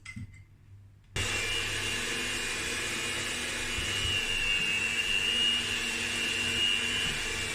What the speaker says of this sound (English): Continue mixing until it becomes a soft and elastic ball.